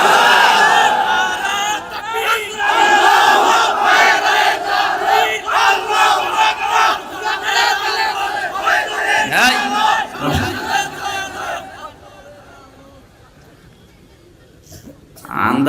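A large outdoor crowd at an Islamic sermon gathering in Sirajganj roars a takbir in answer to the preacher, loud massed chanting in repeated surges lasting about eleven seconds before dropping to quiet.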